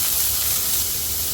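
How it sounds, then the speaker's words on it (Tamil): Two large chopped onions hit hot oil in a pan for dhaba-style bhindi masala, giving a loud, dense, steady sizzle and hiss close to the pan. "இதுலயே நம்ம நறுக்கி வச்ச வெங்காயத்தை ஆட் பண்ணிக்கிறேன்"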